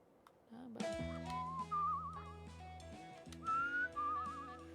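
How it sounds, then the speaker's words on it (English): A character whistles a wavering tune while traveling in Where the Water Tastes Like Wine, the quiet melodic whistle phrases rising over soft game music chords, faint overall. "we Could do move a decent bit faster if I'm whistling"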